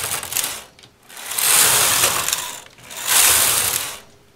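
Knitting machine carriage drawn across a row of needles while ribbing is worked, giving two long, loud mechanical ratcheting sweeps with a short pause between them and no talking.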